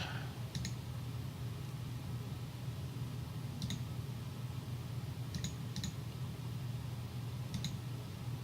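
Faint, sparse clicks of a mouse or keyboard, a handful of isolated taps spaced irregularly over a steady low background hum.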